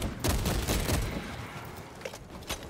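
Gunfire in the game Warhammer 40k Space Marine 2, several rapid bursts of shots clustered in the first second, then thinning to a few scattered reports at moderate loudness.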